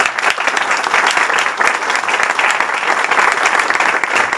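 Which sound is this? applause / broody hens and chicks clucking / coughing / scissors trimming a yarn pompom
applause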